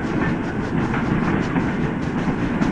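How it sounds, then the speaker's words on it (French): Passenger train 4002 from Marseille, hauled by a 141R steam locomotive, rolls into a station platform at Luzy with a loud, close, continuous rumble and clickety-clack of wheels on rails. "le 4002, il arrivera voie A, là, juste en face de nous"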